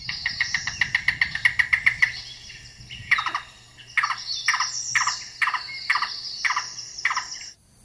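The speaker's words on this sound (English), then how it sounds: "Yellow-billed cuckoo." Recorded yellow-billed cuckoo call played back outdoors by a lake, a rapid run of loud hollow knocking notes followed by slower, harsher spaced calls, with low background hum.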